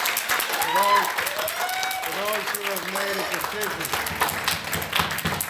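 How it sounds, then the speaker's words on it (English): A church congregation applauding together in a clap offering, a sustained broad wash of clapping while a preacher speaks over it. "Let's give the Lord a clap offering"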